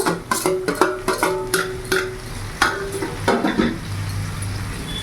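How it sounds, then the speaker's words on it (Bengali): Capsicum and green chilli stir-fried in a pan for veg chowmein: rapid scraping strokes of a spatula over a steady sizzle, close and fairly loud, the strokes easing off toward the end. "ভালো করে একটু নাড়াচাড়া করে নেব"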